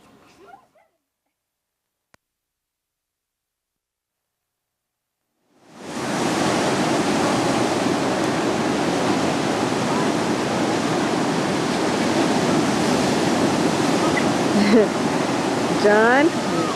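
Steady broadband roar of ocean surf washing in continuously, loud and close, starting suddenly after near silence; brief high voices or bird-like chirps appear toward the end.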